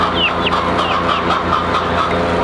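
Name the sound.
chicken clucking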